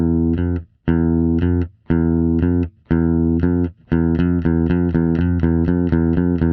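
Two synthesized tones a minor second apart alternate in loud sustained bursts with brief gaps, then speed up into a rapid repeating pattern.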